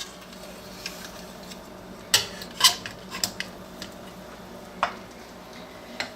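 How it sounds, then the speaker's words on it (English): A spoon stirs sugar and butter in a 4-quart saucepan over medium-high heat, giving a few sharp metallic scrapes and clinks against the pan amid quiet background hiss, with no voices. "We're just going to stir this until everything dissolves and this butter melts."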